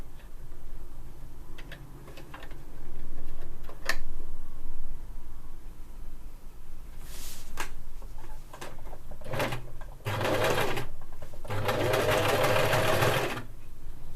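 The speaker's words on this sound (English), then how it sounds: "Well, I've got zigzag stitches again." A sewing machine sews zigzag stitches on a colourful four-panel skirt, with quiet ticking and handling clicks first, then two loud close bursts of fast whirring stitching near the end.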